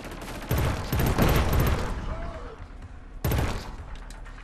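Rapid bursts of gunfire from the shooter game Killzone: Shadow Fall, two loud dense volleys separated by a quieter gap with a fading tail, heard without talk.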